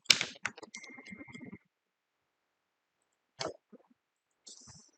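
Quick bursts of clicking keystrokes on a computer keyboard, a dense run at first, then a long pause before a few more isolated taps and a short flurry, close and quiet with nothing else going on.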